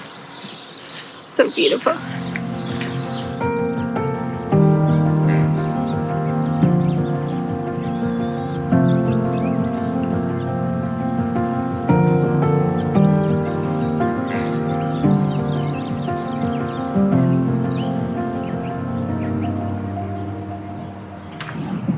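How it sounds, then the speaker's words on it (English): Birds sing along the Camino de Santiago trail in the early morning: continuous chirping and layered calls over a steady high buzz, with a brief spoken remark near the start. "one of the best things about getting on the trail semi-early is listening to all these birds"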